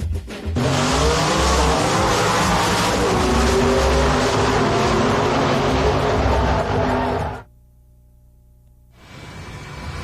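Nitrous-fed drag race cars blast past loud and close with a sustained, raw engine roar for several seconds, then cut abruptly to near silence before a fainter engine noise returns.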